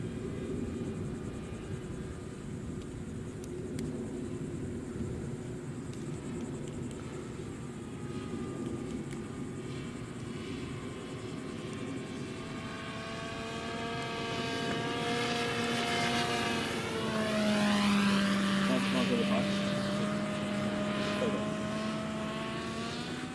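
A small RC-controlled fixed-wing UAV drones past with a propeller buzz, its pitch rising and falling as it sweeps overhead during demo flyby passes, growing louder then fading.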